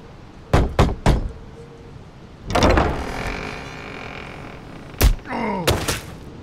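Door effects for a ship's rear cabin in a Warhammer audio drama: three sharp knocks, then a creaking swing, and later heavy thuds and a metallic clunk, all close and distinct.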